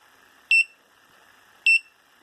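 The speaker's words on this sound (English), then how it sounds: "It says error, and keep beeping with the buzzer" An electronic buzzer on a homemade hardware unit sounds an error alarm, two short, loud, piercing beeps about a second apart, over a faint steady electrical hum.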